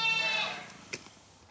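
A sheep gives a single strained, quavering bleat up close while its hooves are being trimmed on a farm, followed by a faint clack or two.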